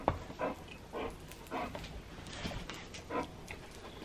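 A dog close by sniffs and whimpers softly in short repeated bursts, quiet and breathy with small pauses between them.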